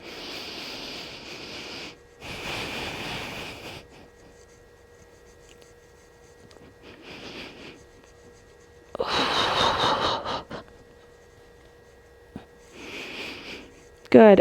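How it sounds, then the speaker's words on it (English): Slow, deep breaths during a stretching exercise come close to the mic as several drawn-out airy inhales and exhales separated by quiet pauses. "Just keep breathing."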